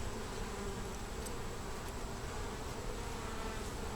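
Honeybees crowd around an open hive, their dense, steady buzzing droning close and continuous without pause.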